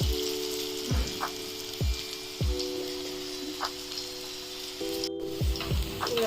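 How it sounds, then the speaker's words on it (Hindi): Chana dal pakoras deep-fry in hot oil over a medium flame, a steady crackling sizzle broken by a few soft thuds at regular intervals. "मीडियम आंच पर इसको हम फ्राई करेंगे"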